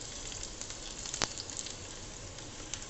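Steady hissing sizzle of spices tempering in hot oil in a pan, broadband crackle throughout with a brief sharp pop midway.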